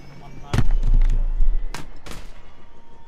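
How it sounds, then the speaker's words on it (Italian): A video game explosion goes off as a sharp loud blast followed by a rumbling roar, with further cracking bursts trailing after it as the rumble decays in pulsing waves. "un'esplosione ho sentito"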